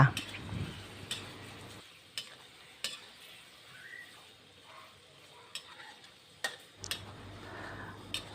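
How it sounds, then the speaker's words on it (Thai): Pork belly is stir-fried in a pan: sparse spatula taps and scrapes ring out at irregular intervals over a faint, quiet sizzle, with a brief voice-like murmur at the start. "เราจะเอาหมูสามชั้นนะคะ ชิ้นโตๆ นิดนึง มาผัดเข้าด้วยกันค่ะ"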